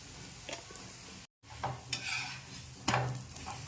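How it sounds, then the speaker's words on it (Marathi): Crisp rava dosa roasting on a pan, a soft close sizzle interrupted by a brief silence, then resuming with scraping and stirring clatter and a louder burst near the end. "खूप छान भाजला जातो आपला डोसा."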